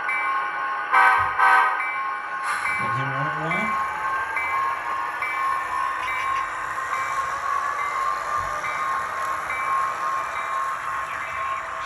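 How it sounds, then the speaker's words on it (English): An HO scale SD40-2 model locomotive runs on a model railroad layout, its motor humming steadily with a few sharp horn toots early on; someone speaks briefly over the running train. "But why don't we get some trains running here? Here's SD40-2."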